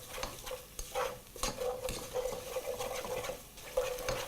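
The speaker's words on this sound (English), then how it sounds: "begin by mixing the mixture right up until your cube is completely dissolved in the oil" Beef stock cube being stirred into oil in a cooking pot, a soft, close, irregular scraping and stirring with a faint underlying sizzle, fairly quiet and without talk.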